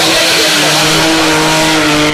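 Race cars roar past at full throttle in organized street auto racing in Nigeria, a loud, continuous engine drone with shifting pitch and possible tire squeal, near and dense throughout.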